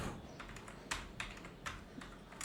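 Quiet typing on a computer keyboard, a short run of soft, irregular key clicks with a few sharper taps, heard alone.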